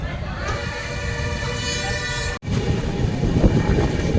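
Surat Mahuva Express 19255 at Savarkundla railway station: a sustained tonal horn-like blare rides over the rumbling train, cuts off abruptly, then the rolling rumble carries on louder.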